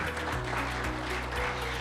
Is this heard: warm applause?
yes